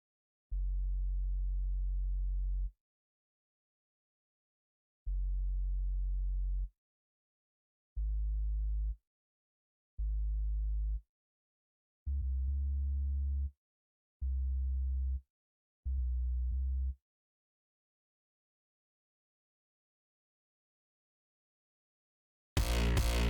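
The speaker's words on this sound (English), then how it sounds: "That way we're getting a saturated sub bass." A saturated sub bass synth plays a Hardstyle-style melody of seven short, deep tones in a stop-start pattern, each held around a second, followed by a brief loud burst right at the end; quiet and otherwise silent between notes.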